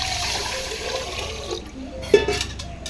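Tap water runs while rice is being washed, a steady close rushing of water that thins out midway, followed by a few soft splashes and clinks.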